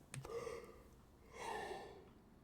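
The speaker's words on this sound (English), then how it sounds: "yawn number 7" A man's yawn, a breathy intake followed by a long drawn-out exhale, heard close and fairly quiet with no talking.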